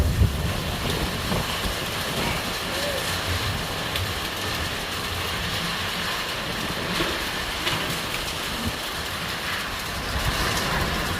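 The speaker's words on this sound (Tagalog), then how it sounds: "It's raining." Heavy rain mixed with falling hail pounds down outdoors as a dense, steady roar that holds without a break, with a few louder hits rising out of the constant downpour.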